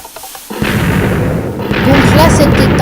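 A TNT and dynamite cannon blast in a block-building video game sends out a loud, rumbling burst that swells into a sustained roar, with a voice talking over it.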